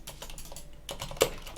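A computer keyboard clacks out a terminal command in sparse, uneven keystrokes, one sharper key hit standing out near the end, close and alone without any voices.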